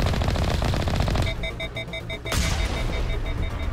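Rapid gunfire from a weapon in Mass Effect Legendary, loud and close, rattles steadily, then stops and leaves an electronic beeping tone repeating, before a final heavy blast.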